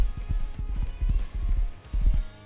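A horse gallops in the survival game Rust, its hooves striking in a quick, rhythmic clip-clop that stays close and steady over a low rumble, with no talking.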